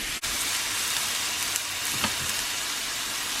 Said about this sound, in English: we're just going to sear all the sides of it really nicely